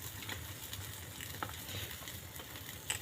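Tilapia fish grilling over a fire, giving a steady close sizzle and crackle with soft stirring-like rustles throughout, no voices.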